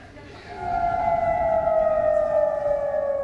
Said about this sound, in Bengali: মধ্যরাতে এখনও বেজে ওঠে সাইরেনের শব্দ